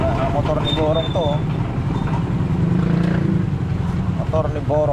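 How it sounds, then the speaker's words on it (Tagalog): A motor engine runs with a loud, steady droning rumble, heard beneath people talking throughout. "Ang motor ni Borong to."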